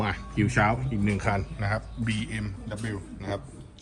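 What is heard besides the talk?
No everyday noises stand out.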